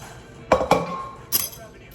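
Utensils clink against a bowl as food is tossed in spicy garlic chili oil with green onions, three sharp close knocks with quieter scraping between them.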